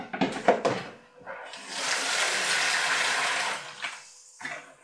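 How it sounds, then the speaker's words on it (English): Tap water pours steadily into the inner bowl of a self-heating hot pot up to the fill line, a close broadband rush lasting a couple of seconds between handling clatter. "and then we fill it with water"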